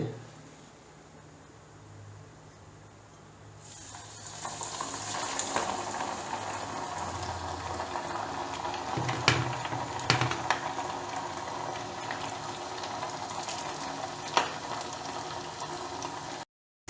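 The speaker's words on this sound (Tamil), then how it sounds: "இப்போ நம்ம மீன் வந்து பொரிக்க ஆரம்பிச்சிடலாம்." Quiet at first, then a steady loud sizzle of fish frying in hot oil for a fish fry, with crackles and pops rising through the hiss.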